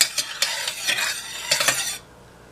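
Milk and rice stirred in a saucepan over medium heat, with a spoon scraping and knocking against the pan in a few quick strokes under a faint sizzle, then quieting as the stirring stops.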